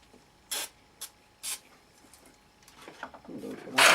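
Several short hissing sprays from an aerosol can, a couple brief bursts then a longer one at the end, close by, with faint talk in between.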